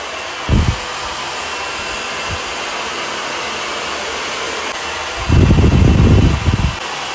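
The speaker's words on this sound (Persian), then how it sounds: "سشوار رمینگتون." A Remington hair dryer blows a steady, loud airy whoosh for several seconds, with gusty bursts of heavier rumble where the airflow hits hair, close and without speech.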